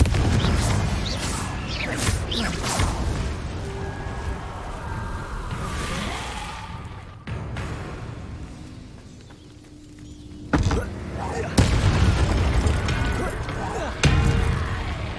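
Confringo fire spells from the video game Hogwarts Legacy burst repeatedly among other spell effects, with sharp explosive cracks and whooshes near 11 and 14 seconds over constant game noise and a speaking player.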